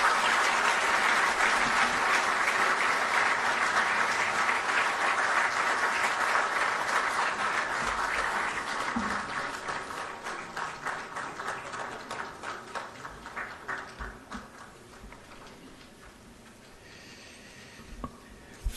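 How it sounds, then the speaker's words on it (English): An audience at the swearing-in of a Chief Justice in Ghana applauds, a full, loud wash of clapping that gradually thins into scattered individual claps and fades to near quiet by the end. "Another round of applause, please."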